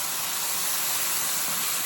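Vegetables steam and sizzle in a pan with soy sauce, a dense, even hiss that holds steady and close throughout with no speech.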